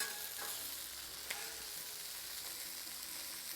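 Chicken wings sizzle and fry on a hot Blackstone flat-top griddle, a steady close hiss of spitting oil with a few faint scrapes and clicks, no voices.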